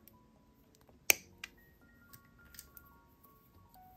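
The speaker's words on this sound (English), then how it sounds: "Grab the wire with my flat nose pliers, line up the bottom loop, give it a kink, cut off the excess" Jewelry wire snipped with pliers: one crisp, sharp cut up close, followed by a few faint small metallic ticks and handling sounds in a quiet setting.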